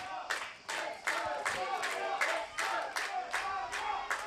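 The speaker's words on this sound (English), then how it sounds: "Some cheering from the Spanish people at the game and from the British people at the game" Spanish and British spectators at an American football game between Spain and Great Britain, rhythmic crowd cheering and chanting in regular pulses, sounding like organized stadium chants, with some clapping underneath.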